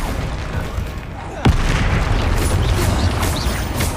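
A Confringo fire spell bursts in the Hogwarts Legacy video game, a single sharp boom near the middle cutting through a steady, busy wash of game ambience and effects.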